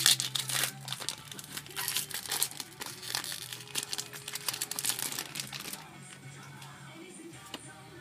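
Foil wrapper of a Pokemon XY booster pack crinkling and tearing open up close, a steady run of papery crackles and rips that thins to quieter rustling near the end.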